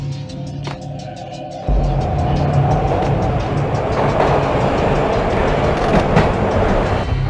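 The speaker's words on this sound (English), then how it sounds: "This was my second train ride of the night." A train ride in the video game Max Payne, with freezing wind. A loud, steady rumble and wind rush swell after a short quieter start, with faint rhythmic clicking of the wheels and no talk.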